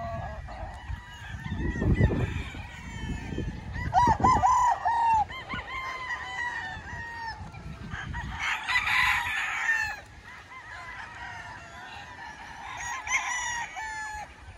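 Gamefowl chickens and roosters on a game farm crow and cluck over one another in a noisy, busy flock, with repeated calls layered throughout and no talking.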